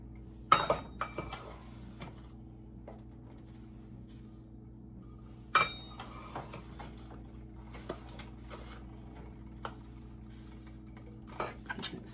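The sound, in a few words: stirring sugar into strawberry jam in a pot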